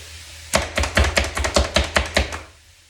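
An onion is chopped on a board with a knife, about nine quick, evenly spaced chops in a tight burst, close and crisp, then silence.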